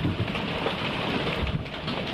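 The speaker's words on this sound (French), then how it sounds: "il pleut" Steady rain patters on a sailboat in Martinique with a dense, continuous hiss, no voices.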